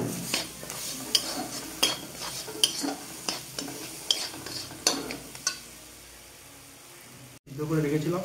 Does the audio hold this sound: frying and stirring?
yes